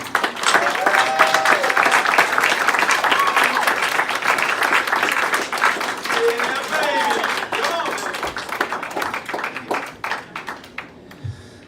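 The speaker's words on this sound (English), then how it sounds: "Clap for him!" A comedy club crowd at McGuire's applauds a comedian taking the stage, sustained loud clapping with some voices mixed in, thinning to a few scattered claps near the end.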